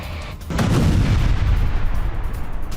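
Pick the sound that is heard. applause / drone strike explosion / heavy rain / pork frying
drone strike explosion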